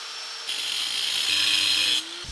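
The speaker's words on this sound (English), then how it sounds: "While Alex is over here cutting up the proper size bolts" Bolts for an LTW wing install on an E36 M3 GT build are cut to length with a power tool, a steady abrasive cutting whine lasting about a second and a half between quieter shop noise, with no talking.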